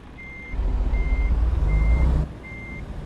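Truck reversing alarm in a driving video game, four evenly spaced steady beeps over a low engine rumble that swells loudly in the middle and then drops away.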